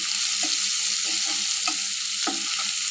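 Small native onions sizzle in hot oil in a frying pan, a steady close crackle with a few brief stirring scrapes, no talking.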